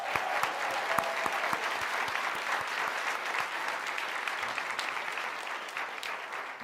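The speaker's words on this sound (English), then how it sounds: "let's give her a big round of applause" A large audience gives a sustained round of applause at a university commencement ceremony, dense steady clapping filling the hall for several seconds with no speech over it.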